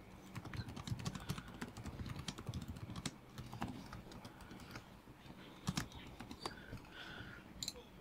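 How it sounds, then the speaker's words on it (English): Fast typing on a computer keyboard as captions are entered in an app. The clicks are close and steady, with a few louder keystrokes near the end. "over here, we can type in some captions"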